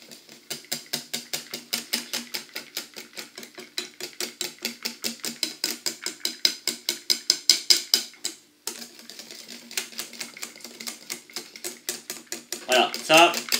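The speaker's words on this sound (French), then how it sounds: "Et puis, je vais la mélanger rapidement au fouet." Cheesecake filling is whisked quickly by hand in a bowl for a lemon cheesecake, a rapid, steady train of sharp metallic clicks and scrapes with a short pause partway through and louder knocks near the end.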